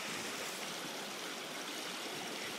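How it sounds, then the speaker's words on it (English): A river flows steadily outdoors, a dense, even rushing of water heard alone at a moderate level throughout. "A river."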